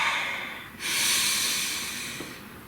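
Deep breath taken in close to the microphone, a rushing airy inhale that swells and then trails off slowly, heard on its own without speech.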